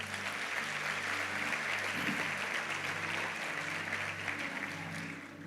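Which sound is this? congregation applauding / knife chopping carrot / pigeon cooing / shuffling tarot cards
congregation applauding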